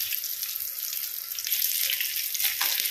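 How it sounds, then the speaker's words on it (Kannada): Snacks deep-frying in hot oil in a home kitchen, giving a steady, close bubbling sizzle that runs continuously and swells slightly louder toward the end, with no talking. "ನೋಡಿ ಈ ರೀತಿ ಬಣ್ಣ ಚೇಂಜ್ ಆಗುವಷ್ಟು ಫ್ರೈ ಮಾಡಿದರೆ ಆಯಿತು"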